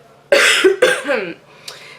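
Two harsh coughs close together, near and loud, followed by a faint third sound and quiet.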